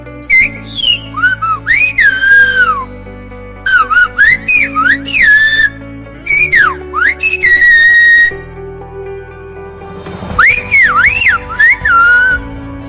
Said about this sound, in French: Le plus étudié et le plus sifflé, c'est le silbo, sur l'île de la Gomera dans les Canaries.